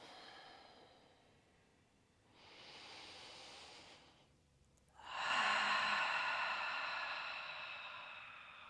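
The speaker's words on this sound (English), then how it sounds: "Take a couple of breaths in here" Slow, deep breaths from someone lying on their back on the floor during a relaxed yoga cool-down: a soft, airy inhale, a short pause, then a longer, louder exhale, close and without talk.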